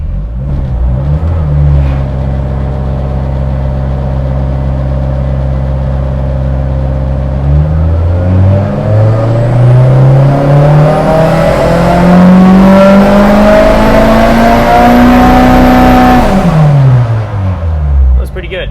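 A Mitsubishi Lancer Evolution 9 engine pulls hard on a dynamometer. The loud, close drone climbs steadily in pitch to a high-rpm peak, then drops off sharply as the throttle closes.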